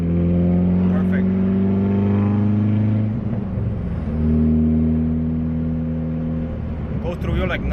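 A stock Honda D15b engine with an eBay turbo kit running 11.5 psi of boost, making 215 hp, drones loudly from inside the moving car, revs climbing, dipping at a shift, then climbing again, with a voice faintly under it.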